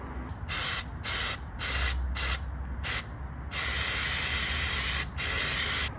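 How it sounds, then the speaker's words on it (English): An aerosol can of throttle body cleaner sprays onto a throttle body in several short bursts, then one long continuous hiss and a final burst, close and loud. "Let's go ahead and spray it down."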